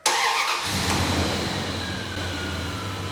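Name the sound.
car engine starting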